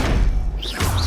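Depulso repelling spell striking in Hogwarts Legacy combat: a heavy thudding impact with a crashing smash, followed by a brief dip and a second whooshing hit, loud and close.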